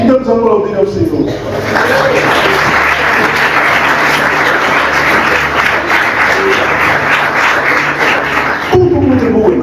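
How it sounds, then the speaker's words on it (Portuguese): A church congregation bursts into loud, sustained applause during a communion service, dense clapping with some cheering that swells after a short spoken lead-in and fades as a voice returns at the end. "Vamos aplaudir ao Senhor."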